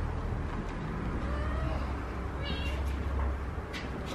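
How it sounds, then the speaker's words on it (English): A frightened kitten meows, two or three thin high cries in the second half, close but modest against steady low background rumble. "So this wee kitty has been locked in the house all night."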